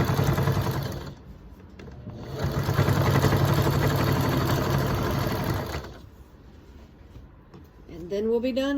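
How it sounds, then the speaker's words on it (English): A sewing machine stitches quilt binding in fast, buzzing runs, close by, pausing between bursts, while someone talks over it and a brief whir follows at the end. "So we don't have far to sew. We're going to sew till we get to the end."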